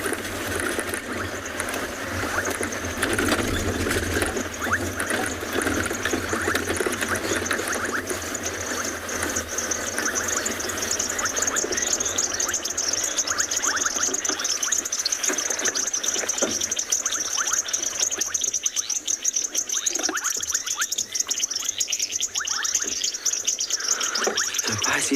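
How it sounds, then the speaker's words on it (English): Frogs calling at sunset on a safari in the Kalahari bush at Tswalu, a dense continuous chorus of chirps and trills with a steady high-pitched insect-like buzz throughout, heard from a quiet coasting vehicle. "You can actually hear the frogs already."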